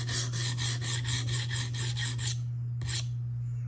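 Rhythmic back-and-forth rasping of a Spyderco Police 4 knife with a K390 steel blade being reprofiled on a 140 grit Atoma diamond sharpening plate, close and steady strokes over a constant low hum, ending with a final scrape.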